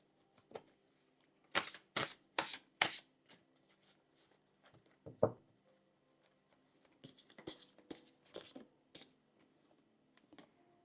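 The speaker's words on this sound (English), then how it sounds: "I'm going to shuffle these cards again just to get some clarifications." Tarot cards being shuffled by hand, a series of soft riffling bursts in two clusters separated by a pause, close and quiet with no talk.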